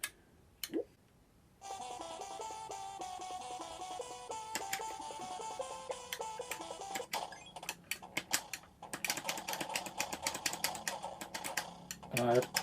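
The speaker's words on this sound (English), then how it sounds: "I apologise for the noisy controller." A noisy game controller on a Raspberry Pi touch-screen setup, its buttons clicking in quick irregular bursts over a steady background tone, growing busier toward the end.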